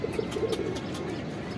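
Shahjahanpuri pigeon giving a soft, low coo, short and fairly faint over steady background noise.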